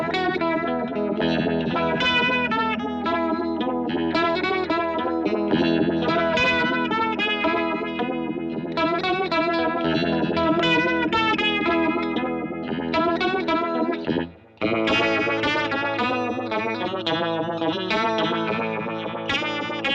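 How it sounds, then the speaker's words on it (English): A vintage-style vibrato modulation guitar pedal warbles a continuous chorded guitar part with a wavering pitch, loud and steady for the full stretch, with only a brief dip near the middle and no talk. "Probably my favourite modulation pedal because of how unique and different it is"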